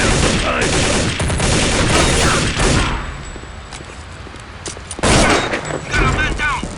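Rapid bursts of gunfire crackle in Counter-Strike: Condition Zero, dense volleys early, then a lull and fresh shots near the end, loud and close, with shouted voices mixed in.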